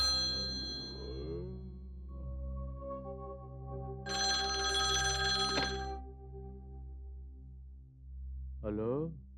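A telephone rings with a bell-like electronic tone in a Hindi film scene, a burst of bright repeated rings near the middle, with background music and voices around it.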